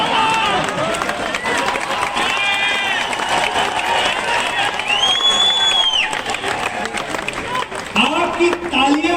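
A large audience at a Gudi Padwa eve poetry performance in Ujjain bursts into loud, sustained applause mixed with cheers and whistles, the clapping continuing steadily throughout.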